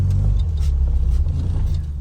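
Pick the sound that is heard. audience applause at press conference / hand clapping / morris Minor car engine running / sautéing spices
morris Minor car engine running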